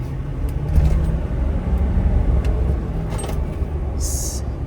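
A 2023 Ford F250 lifted pickup with the 6.7 HO engine accelerates on a residential street, a loud, steady low engine rumble and road noise that swells and holds throughout, with faint rattles above.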